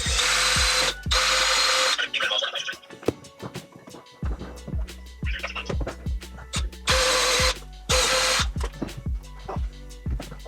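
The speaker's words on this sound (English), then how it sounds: "just kind of drilling out some of the holes for running the cables" A power drill whirs in several loud bursts, drilling holes for running cables, starting and stopping, with clanks and knocks in between, close by.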